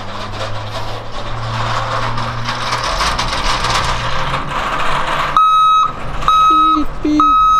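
A truck's reversing alarm at a school district bus facility warehouse beeps in a steady repeating series of sharp electronic tones. Before the beeps start, engine rumble and mechanical clatter fill the background.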